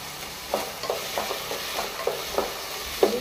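Beans and mixed vegetables fry in a pan under a continuous sizzle, with a regular series of scraping stirs about every third of a second, close-up and with no talking.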